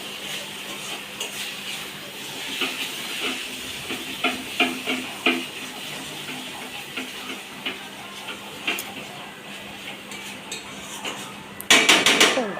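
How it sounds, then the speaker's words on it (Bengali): Chicken curry being stirred in a pan, with repeated scraping and clinking of a utensil against metal over a soft frying sizzle, and a louder clatter near the end. "এবার দেখো বেশ করে নাড়ছে।"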